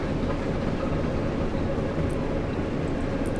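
A Great Western diesel locomotive runs along the line in Train Sim World 2, giving a steady, even engine drone and track rumble with no breaks, fairly close and moderately loud.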